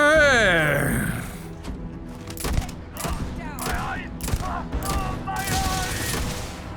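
Gunfire in Starfield, with rapid bursts of shots and booms in an intense firefight while players talk and shout excitedly over the noise.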